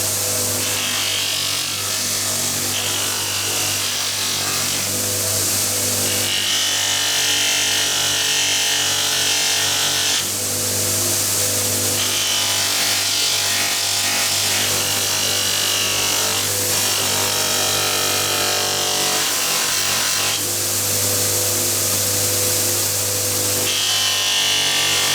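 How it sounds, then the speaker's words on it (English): A spinning buffing mop charged with polishing compound runs steadily against a brass casting for a wall sconce, giving a continuous close whir and rub that swells in several pressing passes. "then we'll do the first aggressive polish on the brass using this mop"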